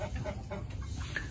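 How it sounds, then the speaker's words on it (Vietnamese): Many chickens clucking inside a poultry house on a rural farm, soft overlapping clucks and murmurs against a low, steady background hum, fairly faint and close by. "làm cái nhà đó, cái nhà này nuôi gà này"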